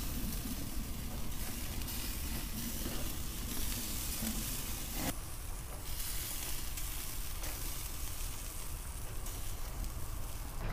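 Leg of lamb and lamb merguez kebabs with cremini mushrooms sizzle on a grill while being basted, giving a dense, continuous crackling hiss that stays fairly even for several seconds, with occasional louder bursts.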